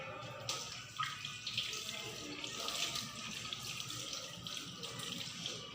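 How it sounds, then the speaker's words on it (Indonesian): Running tap water streams steadily over hands being rinsed at a sink, a continuous close splashing rush with small irregular surges as the hands move, no talk. "membilas telapak tangan pada air mengalir"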